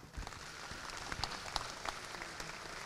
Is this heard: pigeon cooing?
no